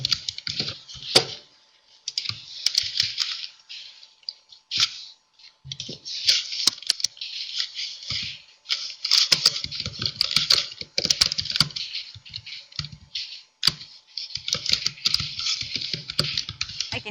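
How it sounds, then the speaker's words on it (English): Fingers type quickly on a computer keyboard in bursts of rapid, close clicking, pausing briefly between runs, during an online English class. "I can hear you furiously typing away."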